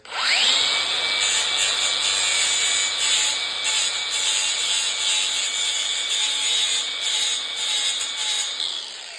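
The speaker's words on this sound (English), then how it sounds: "I'll just go in with a flap disc." A fresh flap disc grinds a metal chopper exhaust pipe, starting abruptly into a loud, steady, high-pitched abrasive hiss with slight pulsing as the disc kisses the surface, up close and without speech.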